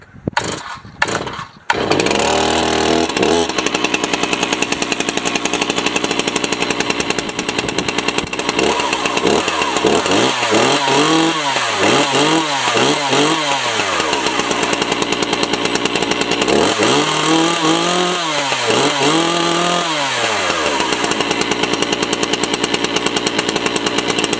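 An old chainsaw pull-started with the chain brake set and the choke at half, a few quick rope pulls followed by a loud, close engine running steadily with repeated revving surges, no voices.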